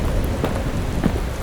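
Steady rain falling with a rumble of thunder, rolling low and close through a wet night over open fields, with no voices present.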